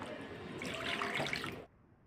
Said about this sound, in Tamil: தண்ணி ஊற்றி நல்லா க்ளீன் பண்ணி வச்சுக்கோங்க